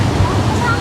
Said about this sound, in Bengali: অনেক ঢেউ হচ্ছে এখানে, অনেক বড় বড় ঢেউ